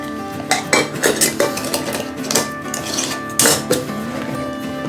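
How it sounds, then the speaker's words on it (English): A lid set onto a container of sour mash topped with oak chips, heard as a run of sharp metallic clatters and clinks at uneven intervals, close and alone. "Put a lid on that."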